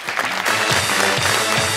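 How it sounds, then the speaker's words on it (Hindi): Studio audience on a Pakistani talk show breaks into applause, a dense wash of clapping over the full stretch with some pitched, voice-like tones showing through it. "तालियां"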